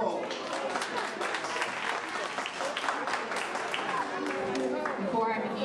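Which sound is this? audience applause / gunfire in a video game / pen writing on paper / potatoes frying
audience applause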